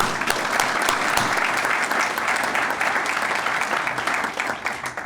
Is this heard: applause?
yes